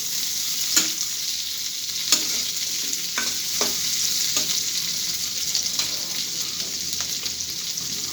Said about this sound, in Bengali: এই পর্যায়ে দিয়ে দিব কতগুলো পেঁয়াজ আর এগুলো একটু ভেজে নেব আমি